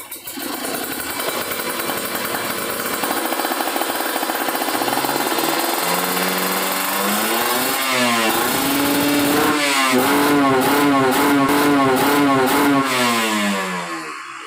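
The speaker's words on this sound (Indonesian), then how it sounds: "Saya coba ya teman-teman, dari RPM bawah, menengah sampai atas, tapi bentaran aja, berisik soalnya." Kawasaki Ninja RR two-stroke motorcycle engine revving in bursts from low through mid to high RPM, loud and close, rising and falling pitch sweeps repeating before hitting the limiter on a cold engine.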